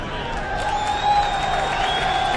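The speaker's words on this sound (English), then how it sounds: "Danny Pedrosa receiving some real well-deserved applause and" A MotoGP crowd at Valencia in 2015 applauds and cheers for Dani Pedrosa, a steady wash of distant clapping and crowd noise with faint whistles and tones riding above it.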